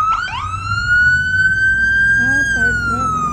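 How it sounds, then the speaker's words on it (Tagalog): A wailing ambulance siren passes close by on a street, a loud steady tone that rises and falls, with traffic rumble beneath and a brief yelp near the end. "makukuha po natin yung nag-ngaw-ngaw po na ambulance"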